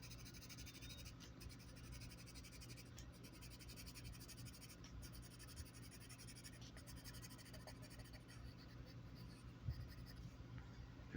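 A Crayola colored pencil, purple, rubs steadily across paper in continuous scratchy strokes, close and even, with occasional brief lifts and a faint low room hum beneath.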